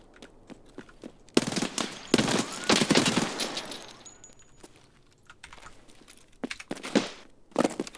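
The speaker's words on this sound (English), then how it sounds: "Who's shooting?" Bursts of gunfire in the shooter game Escape from Tarkov (single-player SPT), rapid automatic volleys clustering around a couple of loud stretches, with scattered single shots and clicks before and after.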